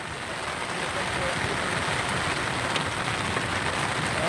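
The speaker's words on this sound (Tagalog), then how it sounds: "Malakas na yung ulan." Heavy rain pours down steadily during storm net fishing, a dense, even hiss of drops drumming on surfaces, with people talking faintly underneath.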